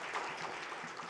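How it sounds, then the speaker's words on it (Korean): Congregation applauding during a Sunday church service, a dense, steady patter of many hands clapping in a sanctuary for about a second with no talk over it. "다시 한번 박수하겠습니다."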